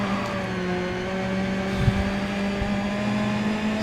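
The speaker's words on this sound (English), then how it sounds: "I'll keep quiet for a bit so you guys can enjoy the engine sound, which is really great in this game" Touring car engine in the racing game GRID Autosport, a loud, steady high-speed drone with strong harmonic tones holding nearly constant pitch, running alone without talk.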